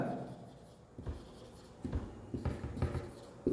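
Chalk or pen scratching out a word on a board in a maths class, a few short separate strokes with pauses between them, fairly faint and with no talk over it.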